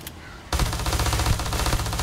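A weapon fires in the Starfield video game after a brief quiet start. It becomes a loud, rapid, unbroken stream of automatic shots with a dense, punchy rattle.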